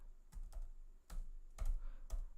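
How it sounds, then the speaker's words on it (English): Keystrokes on a computer keyboard while a Linux command is entered, a handful of separate clicky taps in an irregular rhythm, close and fairly quiet, with no voices. "Just type cd space and name of your directory."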